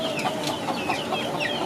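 Chickens cluck steadily on a permaculture farm, several birds calling over one another in a busy, continuous chatter at moderate distance.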